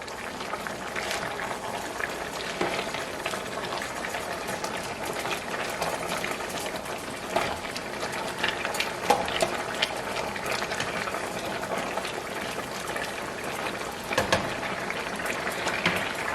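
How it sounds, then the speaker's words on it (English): String beans boiling hard in a pot, a continuous soft bubbling and gurgling with occasional clinks from stirring, fairly quiet and steady, no talking. "our string beans have came to a good hard boil"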